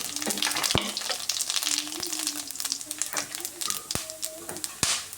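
A paste of ginger, garlic and chili sizzles in hot oil, a soft, crackly fry broken by sharp scrapes and clicks of a utensil stirring the pan.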